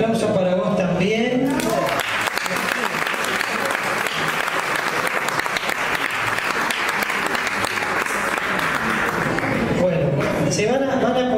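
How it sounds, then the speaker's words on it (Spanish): A crowd at a tribute ceremony breaks into loud, sustained applause that fills the space, with talk heard briefly before and after the clapping. "Nini, el aplauso para vos también."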